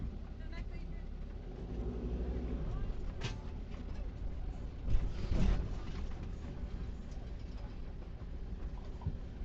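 A Winnebago motorhome cruising down California 78 through Palo Verde, a steady low road rumble and drone running throughout with a brief louder swell midway, and voices talking over it.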